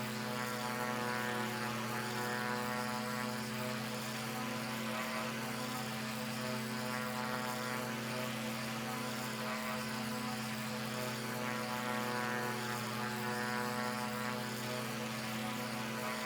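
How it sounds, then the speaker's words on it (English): A propeller aircraft engine in a flight video game drones steadily and close for the whole stretch, a constant buzzing hum with the revs easing slightly, with no talking over it. "The engine, the revs drop a little bit."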